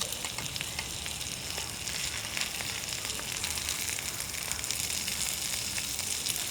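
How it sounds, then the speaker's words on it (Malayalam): Eggs sizzle and spatter in a hot pan while an egg pepper fry cooks, a steady crackling hiss with small pops, close and continuous with no talking. "ഈ സമയത്ത് ശ്രദ്ധിക്കണം പാനെ ചെറുതായിട്ട് പൊട്ടിത്തെറിക്കുന്നുണ്ട് കേട്ടോ"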